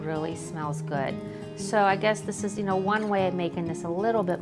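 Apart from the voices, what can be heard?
No distinct noise like a dog, phone or traffic.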